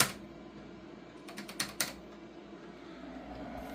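Lock keys pressed one after another on a vintage Epson computer keyboard from an Epson Equity I setup, giving a short run of four or five crisp, faint clicks at close range over a quiet hum.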